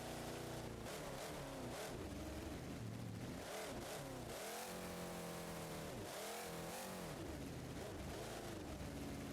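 A monster truck's engine, a Daimler-Benz unit cloned from a Ford engine, revs in BeamNG.drive on a six-wheeled truck, with loud, continuous rising and falling revs that sweep up and down in repeated bursts.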